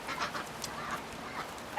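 Ducks in a backyard chicken and duck run and coop give several short, moderately loud quacks spread across the moment, with a busy outdoor background and no talking.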